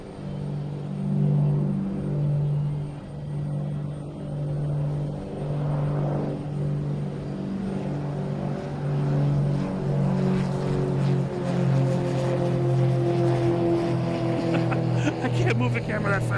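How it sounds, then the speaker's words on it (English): A Cape Air plane takes off at Boston Logan Airport at night, its propeller engine droning steadily with a slowly rising pitch, with people talking nearby over it. "it wouldn't be a night without another crazy Cape Air takeoff"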